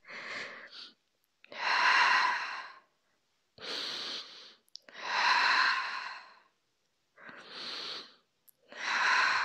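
Slow, deliberate exhales during a Pilates mobility exercise, heard close up as six long breaths separated by quiet pauses.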